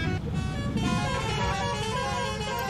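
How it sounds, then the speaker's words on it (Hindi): A bus horn in the Bus Simulator Indonesia video game, a sustained tonal honk held for nearly three seconds over a low engine rumble. "तो सर ये हॉर्न है हमारा,"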